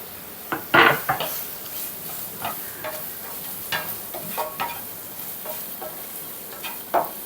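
Cut sweet potato pieces with turmeric are stirred in a pot, producing irregular scraping and clacking strokes with one louder scrape early on, over a faint sizzle.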